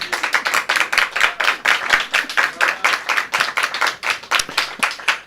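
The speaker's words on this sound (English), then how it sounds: "But maybe just a big thank you and an applause to Magda." Dense, steady clapping from an audience at a public health science debate event, loud and close with many hands overlapping, continuing throughout with no speech over it.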